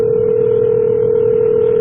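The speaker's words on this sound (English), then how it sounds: "I got Dave's inside line I'm ringing right now." A telephone dialing tone holds one steady, loud electronic pitch alone for about two seconds, cutting off abruptly at the end.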